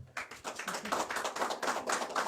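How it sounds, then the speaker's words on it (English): Steady applause from an audience at a county Republican Party meeting, a dense, even patter of many hands clapping that starts abruptly and carries on without a break. "can you give them a round of applause?"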